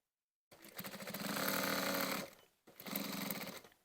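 A sewing machine stitches tabs on Regency fall-front trousers in two steady, loud runs, a long burst followed by a short pause and a second run, with no talking.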